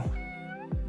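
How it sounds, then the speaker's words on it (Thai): A cat gives one clear, close meow, rising then falling, among indoor houseplants, with soft thumps just before and after it. "น้องเหมียว"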